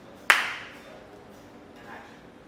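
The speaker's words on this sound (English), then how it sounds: "We got a clap." A single sharp hand clap on a film set for audio sync, close and loud, with a short ringing decay into a quiet room and a faint voice afterward.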